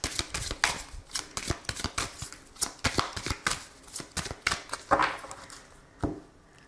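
Oracle cards are shuffled by hand in quick, uneven bursts of papery riffles and slaps, close and crisp, pausing briefly near the end.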